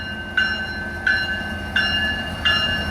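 A CSX B816-15 loaded coal train with helper locomotives passes in a steady low rumble, with a bright ringing squeal recurring at regular intervals of roughly seven-tenths of a second.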